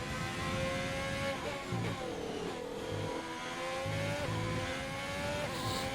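Formula 1 cars in a racing video game at a Russia round, with Alfa Romeo, Racing Point, Mercedes and Ferrari machines: high-pitched engines rising and dropping through gear shifts, several cars overlapping, loud and continuous.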